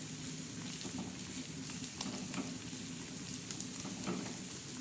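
Onion and coriander seeds sautéing in a pan for egg bhurji, a quiet, even sizzle with faint stirring ticks, steady and low in level, no talk.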